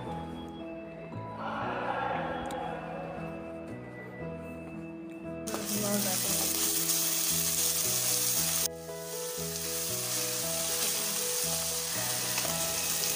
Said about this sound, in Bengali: কিছুটা সময় এটাকে মিক্স করে নেওয়ার পরে এতে অ্যাড করব টমেটো পেস্ট